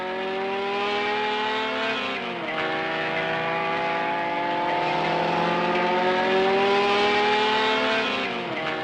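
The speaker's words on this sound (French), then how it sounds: "les Renault Alpine type A210. Propulsées par le moteur Renault Gordini 1300 cm3, développant 130 chevaux" Renault Alpine A210 race cars with Renault Gordini 1300 cc engines at Le Mans, a loud sustained engine drone with rising and falling pitch as the cars pass and shift gears, steady throughout.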